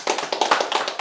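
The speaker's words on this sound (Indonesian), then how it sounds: "Saudaraku, boleh tepuk tangan" A church congregation claps hands in a brief burst of quick, rhythmic applause, crisp and fairly close, with no talking.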